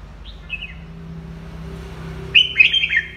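Faint chirpy bird calls played from a Q92 bird-trapping loudspeaker, a short one early on, then a louder burst of high tweets near the end, over a low steady hum.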